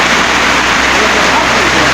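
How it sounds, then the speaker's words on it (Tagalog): Heavy rain pours down in a dense, loud, continuous hiss with no breaks, like a downpour drumming on surfaces close by. "Lakas ng ulan dito mga idol."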